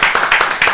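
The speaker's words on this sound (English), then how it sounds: "Let's give us a round of applause for that" A short round of clapping from a few people, close and loud, in a rapid uneven rhythm over less than a second.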